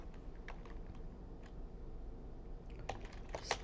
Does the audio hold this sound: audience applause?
no